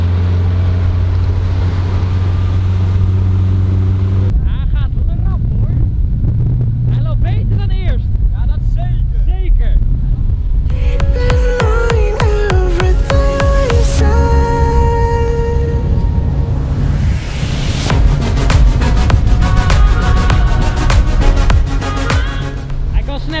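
A motorboat engine drones steadily as the boat cruises and throws up waves, with a broadband rumble and water wash running throughout while several people talk and laugh over it near the microphone.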